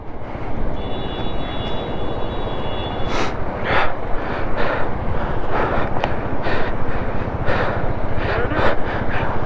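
A vehicle engine drones and revs steadily while climbing a rough mountain road between Kaza and Manali, loud and constant, with scattered knocks and bumps and a voice speaking briefly over it.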